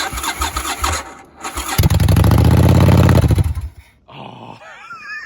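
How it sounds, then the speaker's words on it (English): A 1999 Yamaha Virago XV1100S motorcycle cold starting with choke: starter cranking, then the engine catching into a loud close rumbling run that cuts out, followed by higher whirring and chirping sounds. "I'm honestly so impressed that this thing can even start over in the middle of the cold."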